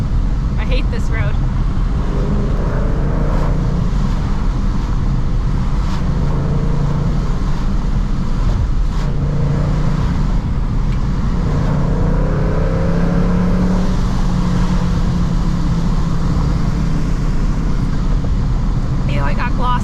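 Supercharged Ford Mustang Mach 1 cruising through rainy Denver, heard from inside the cabin as a loud, steady engine drone and road rumble with tire hiss, swelling with revs now and then; a voice can be heard faintly.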